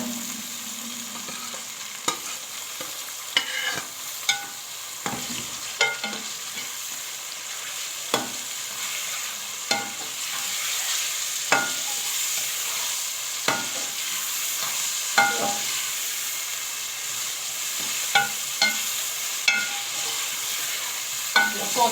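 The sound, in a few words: marinated chicken frying and being stirred in a pot for biryani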